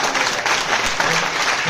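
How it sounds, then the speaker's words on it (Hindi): Loud, dense audience applause fills the air without a break at a Nasha Mukt Panchayat Abhiyan anti-drug event in Doda, a continuous roar of many clapping hands. "जोरदार ताली के साथ"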